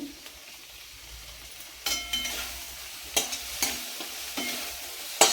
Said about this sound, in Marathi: आता आपण चांगलं परतून घेऊ